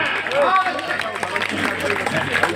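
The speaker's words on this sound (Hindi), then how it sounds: "तालियां कमजोर है" Thin, scattered audience clapping and crowd murmur at a Hindi comic poetry gathering (hasya kavi sammelan), running steadily through the moment with a voice speaking over it.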